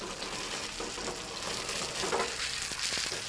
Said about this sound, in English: My oil's hot. I'm going to add my gnocchi.